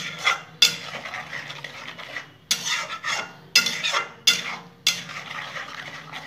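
A spoon scrapes and stirs a cashew and melon seed paste masala for prawn curry in a pan, giving about eight close, rhythmic strokes with short pauses between them.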